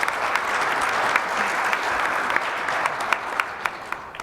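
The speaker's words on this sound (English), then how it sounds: "can we just give a round of applause for all the speakers so far?" An audience at a county economic outlook event gives a steady round of applause for the speakers, dense clapping that holds at an even level throughout with a few sharper claps standing out near the end.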